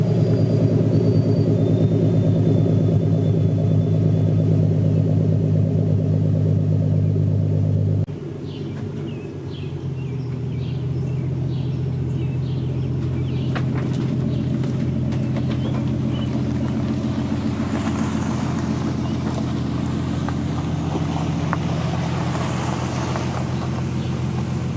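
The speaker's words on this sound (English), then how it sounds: "She sounds really good for a V6 already." A 2008 Ford Mustang 4.0 V6 with aftermarket camshafts idles with a steady, loud rumbling exhaust note that drops and changes character partway through, then continues running.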